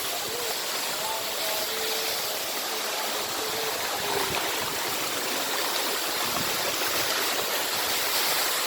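Ambun Suri waterfall roaring as a dense, constant rush of falling water close by, with faint voices barely showing through the noise.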